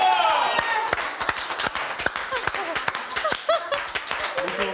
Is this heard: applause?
yes